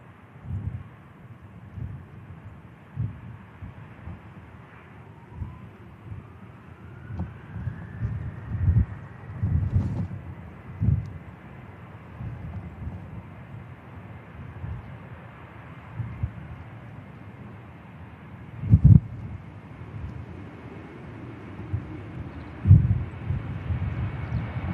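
Jet airliner departing Manchester Airport from runway 05 left, a low steady engine roar with a slowly rising whine, heard from a distance outdoors with gusty wind buffeting the microphone throughout.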